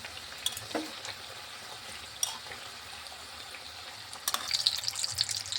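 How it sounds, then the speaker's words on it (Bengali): Vegetable patties fry in warm oil over a low flame, giving a soft, quiet sizzle with a few faint clinks and scrapes and a livelier bubbling toward the end. "পেটিসগুলি এই যে লাল লাল করে ভেজে নিচ্ছি"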